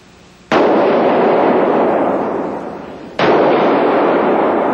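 Two loud pistol shots fired at a target, sharp sudden blasts about three seconds apart, each followed by a long echoing decay outdoors.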